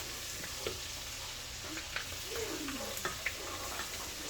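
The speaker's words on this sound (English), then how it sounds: "We fry the ginger and garlic for some time." Ginger and garlic frying in a pan give a steady, fine sizzle throughout, with soft clicks and scrapes of stirring scattered over it, close and moderately quiet.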